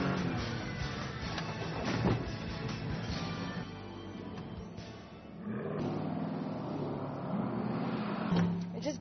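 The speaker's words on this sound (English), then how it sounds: "You can hear the engine roaring. This Mitsubishi is nuts." A Mitsubishi off-road vehicle driving through sand dunes, its engine roaring loud and close throughout, dipping briefly midway before surging again, with wind and rough ride noise mixed in.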